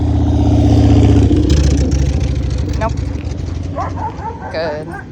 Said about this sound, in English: Not only motorcycle, but also dogs barking as well.